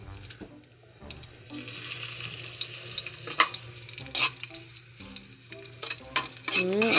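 Garlic frying in a pan for a home-cooked dinner, close crackling sizzle with stirring scrapes and light utensil clinks, rising louder near the end.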